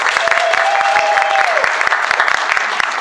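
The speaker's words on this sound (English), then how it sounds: "she also deserves a very, very warm round of applause for her great work today" Audience applause at a film festival fashion event, a steady clatter of clapping with sharp individual claps standing out, and a brief tonal sound or voice rising over it early on.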